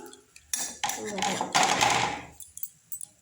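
A lid comes off a pot while pitha cooks, making a metallic clatter and scraping that rises then fades, with a voice speaking nearby.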